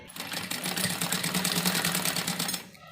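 A sewing machine runs at a fast, even rhythm, stitching a doubled fabric strip for a girl's pleated frock, close and continuous from start to finish with no voices.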